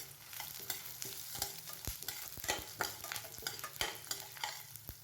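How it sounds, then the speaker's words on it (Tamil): Black pepper, cumin and dried red chillies frying in oil, a busy close sizzle with crackling pops and spoon stirring scrapes throughout. "இப்போ எல்லாத்தையும் நல்லா பொரிய விட்டுக்கலாங்க"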